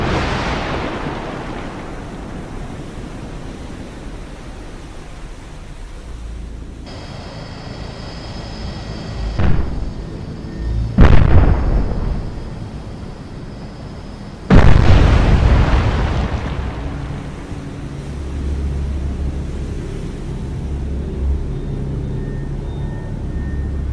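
A submarine torpedo launches from tube 2 in the naval game Cold Waters: a deep whooshing rumble, then several heavy thudding bursts and a loud boom that fades into a low surging underwater wash.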